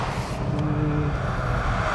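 A steady, throaty engine roar fills the cabin of a 2019 Volvo S60 T5 accelerating, constant and fairly loud, with a low rumble underneath.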